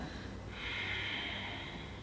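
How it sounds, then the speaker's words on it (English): A slow, gentle ujjayi yoga breath exhaled through a constricted throat with the mouth closed, a soft airy hiss that swells and fades over about two seconds. "So it sounds like this as you exhale."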